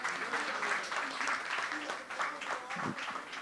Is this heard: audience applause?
yes